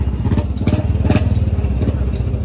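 A Royal Enfield Bullet motorcycle's exhaust thumps in a fast, even, low-pitched idle rhythm close to the microphone, running steadily throughout with no talk over it.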